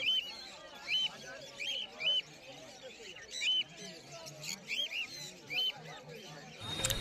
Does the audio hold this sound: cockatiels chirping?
yes